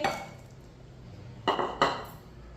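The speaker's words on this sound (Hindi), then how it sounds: "इसे चम्मच के साथ ना मिक्स कर लेंगे" A spoon clinks against a metal pot while boiled chicken is mixed in, a couple of sharp scraping knocks after a quiet start, close and fairly clear.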